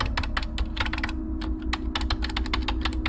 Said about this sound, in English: That's what I'm typing for